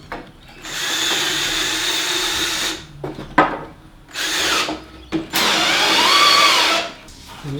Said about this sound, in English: I'll drill the hole.